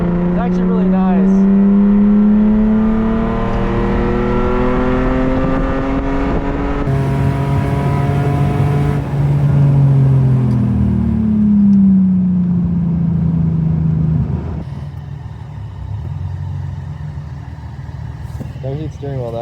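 A BMW engine pulls hard on a race track, its revs climbing smoothly through long rising sweeps before dropping back, loud and close as heard from inside the car.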